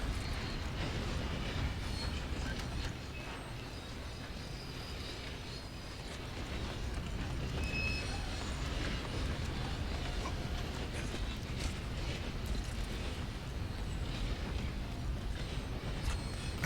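A moving train in Red Dead Redemption 2 rumbles steadily along the rails with clattering wheels and occasional faint squeals, a continuous dense roar that stays even throughout.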